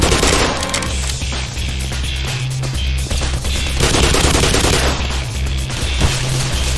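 Rapid automatic gunfire in the Black Mesa shooter, long bursts of loud repeated shots with short pauses between them, close and dominant over the game's background.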